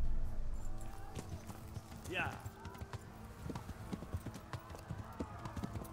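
Rapid rhythmic hoofbeats of a galloping horse in the medieval video game Kingdom Come: Deliverance, with a brief whinny and a rider's short shout over the steady clip-clop.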